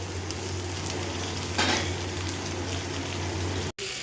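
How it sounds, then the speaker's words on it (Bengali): Masala fries in an old blackened wok with a steady close sizzle, a low electrical hum running underneath, and a brief stirring scrape partway through. "এই কড়াইটার ভিতরে আমি সব ভাজা টাজা করি"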